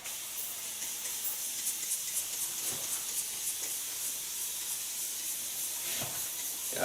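Steady misty hiss of a spray bottle wetting synthetic doll hair during a pixie-cut makeover, continuous and close for the whole stretch with faint soft bursts, no talking.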